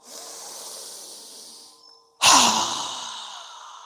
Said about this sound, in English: exhale through our mouth with a strong breath as we lower our hands and arms down